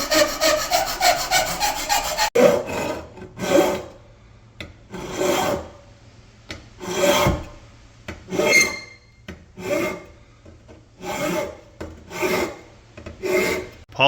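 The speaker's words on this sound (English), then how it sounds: "Lots of filing." A hand file rasps across a metal shift plate for a 1969-72 Grand Prix four-speed conversion, first in quick short strokes, then in slow, evenly spaced scraping strokes with quiet gaps between them.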